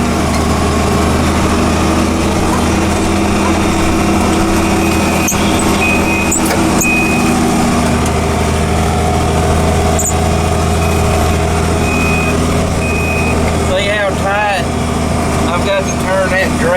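A tractor pulling a wheat drill turns around in a field, its engine droning loudly and steadily with a hum throughout, joined near the end by a few brief high electronic beeps.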